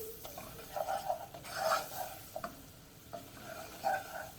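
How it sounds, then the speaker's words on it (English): Butter and flour roux being stirred in a pan, with soft scraping strokes and a faint sizzle recurring in uneven bursts, quiet and close, no talking. "I'm just going to mix this together, cook up the flour"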